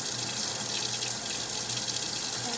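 Water runs steadily from a sink tap, a continuous hissing splash at close range with no talking over it.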